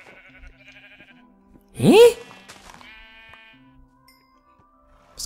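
A Minecraft donkey brays once in a short, loud rising call in the middle of a game scene, with a brief puzzled exclamation and faint game sounds around it.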